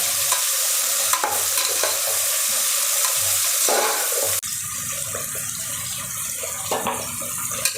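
Onions frying in a pan for tomato rice, a steady close sizzle broken by stirring scrapes and clatters, with the tone shifting partway through as more goes in; no talking.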